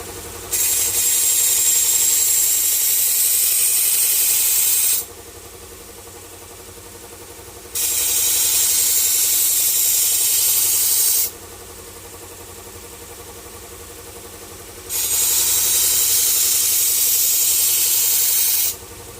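A tool being sharpened on a powered sharpener running near 2080 RPM, a loud grinding rasp that comes in three long passes separated by quieter stretches of the machine's motor hum.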